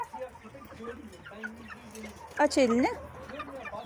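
Chickens cluck around a backyard garden in Fethiye while chicks are about, one louder squawking call standing out near the middle amid scattered softer clucks; people talk close by throughout.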